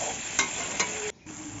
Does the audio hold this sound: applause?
no